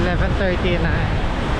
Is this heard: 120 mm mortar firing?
no